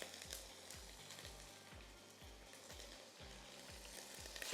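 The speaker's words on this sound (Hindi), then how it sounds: "तो सबसे पहले हम गार्लिक पेस्ट इटालिया का डालेंगे, इसको थोड़ा सॉटे करेंगे, फिर इसमें हम चिकन शामिल कर देते हैं।" Garlic paste and chicken sauté in a pan for chicken Alfredo, giving a steady close sizzle with a regular, rhythmic low thudding from stirring throughout.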